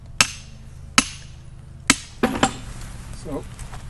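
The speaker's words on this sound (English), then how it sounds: "So you got to find the right spot to put the chisel in." A hammer strikes a chisel driven into flint bedrock: three sharp, evenly spaced metallic blows ring out up close, then two quicker lighter taps follow, with a faint voice briefly underneath.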